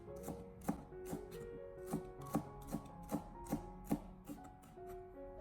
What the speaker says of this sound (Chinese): 清洗干净以后，将它改刀切成小葱花